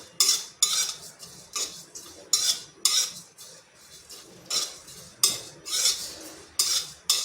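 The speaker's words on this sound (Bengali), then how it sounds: "আর এক টুকরো দারচিনি এটা একটু হালকা করে ভেজে নিচ্ছি" A cinnamon stick is lightly dry-fried in a pan and stirred, with a spatula scraping against the metal in short, repeated strokes about twice a second, bright and close with quiet gaps between.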